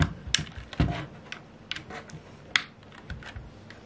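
Typing on an Anne Pro mechanical keyboard: a scattered run of crisp, close key clicks in an irregular rhythm, with a few firmer presses standing out, and no talking.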